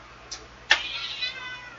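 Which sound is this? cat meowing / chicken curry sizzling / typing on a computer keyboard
cat meowing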